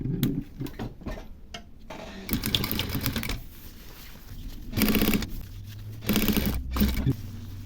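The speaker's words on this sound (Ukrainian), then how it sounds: "тепер цією ж смужкою закриваю припуск, огортаю і настрочую." A domestic sewing machine stitches a binding strip over the seam allowance of a reversible quilted men's jacket, in several short bursts of rapid mechanical whirring separated by pauses.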